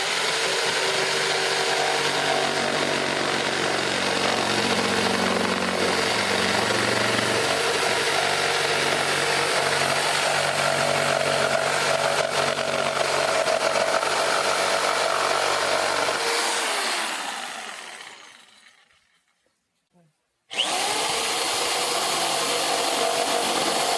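A jigsaw cuts steadily through wood for a long stretch, its whine shifting slightly, then winds down to silence before a brief restart.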